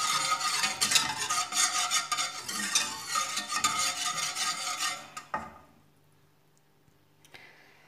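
A spoon stirs milk heating in a pan for chocolate, a steady scraping and swishing with faint sizzling that stops abruptly, leaving near silence and a few soft clinks.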